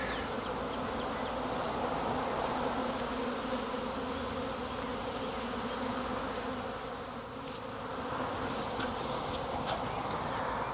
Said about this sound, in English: I'm going to give one more shake of these bees that clustered back.